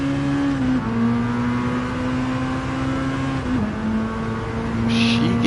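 Classic car engine revving quickly under acceleration, heard loud from inside the car, with a strong engine drone that rises through gears and dips briefly at shifts, with no talking.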